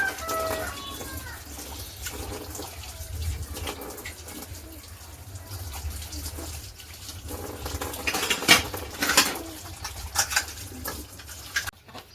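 Dishes being washed by hand, with water running and splashing alongside clinks of cutlery and pots, growing busier toward the end, while pigeons coo nearby in the background.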